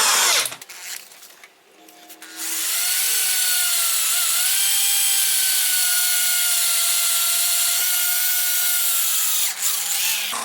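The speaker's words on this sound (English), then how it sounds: "Aluminum drill is so nice and easy." An aluminum part for a CR500 motorcycle build being drilled, a loud, steady high-pitched metallic whine that holds for several seconds after a brief start-up and then stops.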